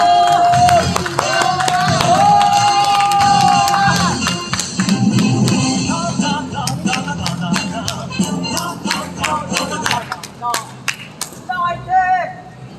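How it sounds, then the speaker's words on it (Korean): Crowd at an outdoor political rally on Seongan-gil street in Cheongju, clapping and cheering after a speaker is introduced; dense, sustained applause with sharp claps and shouts, thinning toward the end. "박수!"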